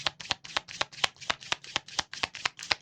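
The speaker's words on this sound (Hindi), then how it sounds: "So let me shuffle the card and let me check more." Tarot cards being riffled and shuffled by hand in a steady run of about a dozen crisp, close flutters with no talking.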